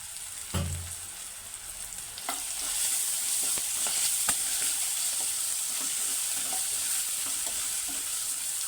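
Ginger garlic paste and turmeric fry in hot oil, starting with a sharp sizzling burst as they hit the pan. Steady hissing follows, with repeated scraping strokes from stirring.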